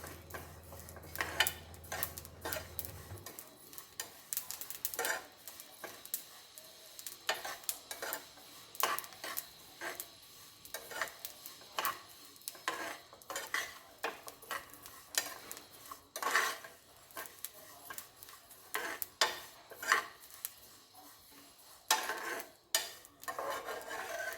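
Niger seeds roast in a dry pan for a village-style chutney, making a steady run of small crackles, pops and scraping stirs close by, with no talk.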